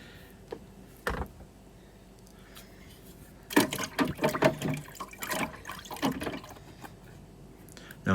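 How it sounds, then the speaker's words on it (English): A removed part of a Shark vacuum cleaner being lowered into water, giving a brief splash followed by a few seconds of sloshing, dripping and clinking close by, fairly quiet, with no talk. "As soon as I've done that, I'm going to put it into some water."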